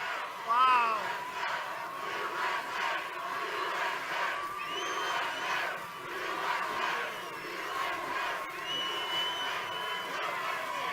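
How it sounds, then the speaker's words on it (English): A large crowd at an outdoor political rally in Bullhead City, Arizona cheers and shouts continuously, a dense roar of many voices with whoops rising and falling throughout. "This is quite a crowd."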